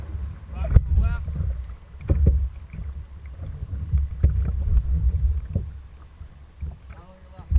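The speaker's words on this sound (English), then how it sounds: "Paddle on your left." A canoe is paddled through river rapids, with rushing water, wind buffeting the microphone and knocking paddle strokes against the hull, close and uneven, with shouted voices in between.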